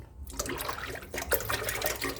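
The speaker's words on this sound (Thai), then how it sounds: "ดูว่าน้ำมันออกดีไหม" Water flows and splashes from a kitchen sink faucet in a close, uneven gush, following cleaning of its clogged outlet to restore weak flow.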